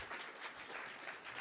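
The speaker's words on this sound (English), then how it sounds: "let's give one final applause to our speakers here" Faint, steady crowd applause closing a mobile engineering conference session, honoring the speakers, with gentle swells in the clapping and no voices on top.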